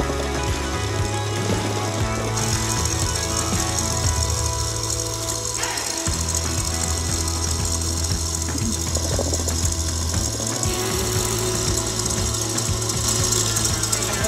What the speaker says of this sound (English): we're gonna mix this together until we have some nice peaks